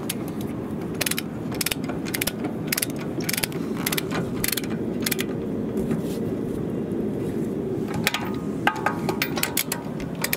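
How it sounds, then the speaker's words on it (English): A wrench ratchets in rapid bursts of sharp clicks while tightening lug nuts on a raised Acura RSX wheel, close and fairly quiet, with irregular pauses between runs of clicking over a low steady hum. "I'm going to use the wrench to tighten them even more"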